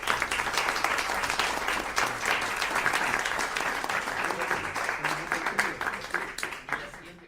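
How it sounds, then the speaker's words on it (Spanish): Audience applause for a choir member at a choral concert, sustained full-room clapping at steady volume for several seconds, tapering slightly near the end, with faint voices under it. "Así que pido un aplauso para él."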